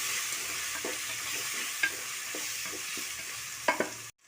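Turmeric, sambar and chilli powders are stirred into masala frying in a pan. A low steady sizzle runs under repeated soft scrapes and a couple of sharper clinks, then the sound cuts off abruptly.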